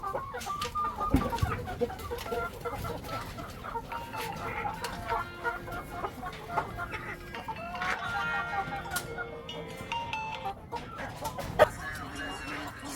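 A flock of farm chickens clucks and calls steadily while waiting for feed, a busy layered chorus at moderate distance with scattered louder squawks throughout.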